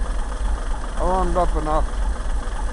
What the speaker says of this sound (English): Oh, there we got her idle down. She finally warmed up enough.